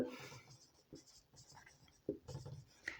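Marker or chalk strokes on a board during an anatomy lesson, a few short scratchy bursts separated by pauses, fairly quiet.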